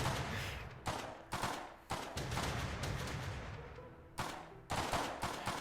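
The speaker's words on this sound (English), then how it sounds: "There's a lot of gunshots around here" Rapid bursts of gunfire crack through a Minecraft DeadZone SMP match, a dense fusillade of overlapping shots with brief gaps, loud and close with no talking.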